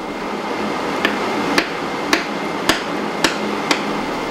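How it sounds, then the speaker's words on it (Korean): A mechanical power hammer in a blacksmith's forge strikes iron in six sharp, evenly spaced metallic blows about half a second apart, over a steady background hum of the workshop. "다시 기계의 망치 앞에 자리를 잡은 변재성 씨."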